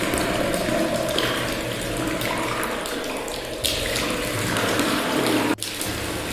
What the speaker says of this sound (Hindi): बाथरूम से बाल्टी भरने की आवाज आ रही थी।